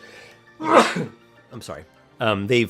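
A single human sneeze, loud and close, followed by brief apologetic speech from the same voice.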